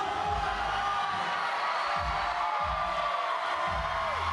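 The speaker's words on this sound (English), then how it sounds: "The crowd is definitely going crazy for Kai right now." A crowd at a climbing national cup bouloring event cheers and roars loudly for a climber, with sustained noise and rhythmic surges of shouting throughout.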